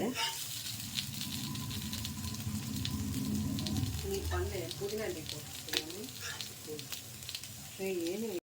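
Adai batter sizzles and crackles steadily on a hot pan, with soft clinks of a utensil and someone talking over the frying sound in the second half.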